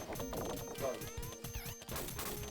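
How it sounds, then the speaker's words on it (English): Brain jars shatter in a video game, a burst of glassy crashes and thwacks with sharp clattering impacts, close and busy over about two seconds. "Oh my god, I'm just shattering brain jars and shit."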